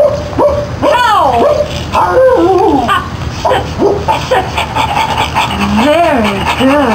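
A person imitates a dog in the 1994 PC DOS video game Voyeur, giving a string of loud, close yips, barks and whining howls with rising and falling pitch, continuous over several seconds.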